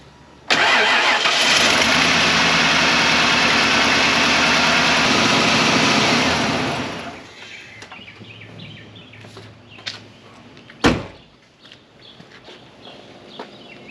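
A 1995 Ford F-150 V8 being worked on for a misfire cranks, fires and roars loudly for about six seconds, then settles into a quieter, uneven idle with clicks and a sharp knock near the end.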